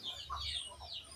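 Chickens being fed rice, giving a brief run of soft clucks and chirpy calls nearby over a low background rumble.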